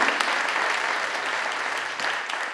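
An audience at an amateur stage show applauds the set, a dense, steady roomful of clapping that stays loud and even from start to finish, easing slightly near the end.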